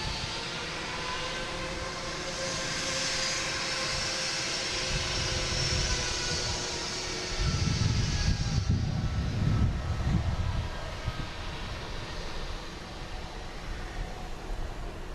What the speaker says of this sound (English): And the JetBlue coming in from JFK.